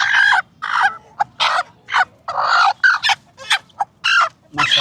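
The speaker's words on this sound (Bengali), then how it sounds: "এদিকে হচ্ছে লালির বাচ্চা ফুটছে 3টা" A hen beside her three newly hatched chicks clucks in loud, close, repeated bursts with short pauses between calls.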